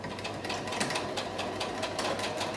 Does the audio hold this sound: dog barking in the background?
no